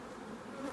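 Bees buzz faintly near a chimney during a bee removal, one brief low drone.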